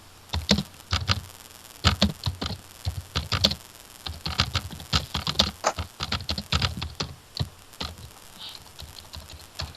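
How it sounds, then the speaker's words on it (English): Typing on a computer keyboard in irregular bursts of close, crisp key clicks with short pauses between flurries, alone with no talking. "Typing."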